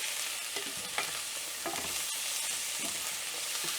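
Butter sizzling and frying in a hot pan with garlic on a home stove, a steady crackling hiss with occasional soft pops and stirring scrapes, close and continuous with no talking.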